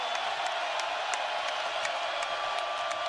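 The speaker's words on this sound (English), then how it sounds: "This crowd is just going nuts" Basketball arena crowd roaring steadily, a dense sustained wash of cheering with faint scattered whoops and claps rising through it, heard from a distance.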